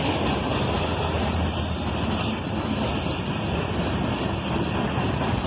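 A freight train of gondolas loaded with steel slabs and coils rolls past with a steady, loud, broad rumbling roar that holds at one level throughout, with no voices.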